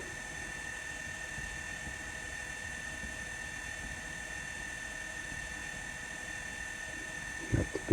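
An N scale Kato SD40-2 model diesel locomotive with a DCC sound decoder gives a continuous, even engine drone with a high whine on top. It plays alone and steady at moderate loudness, ending in a brief knock.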